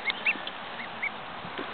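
A baby duck gives a few high, thin calls, three or four short peeps scattered over a quiet indoor background, close and clear.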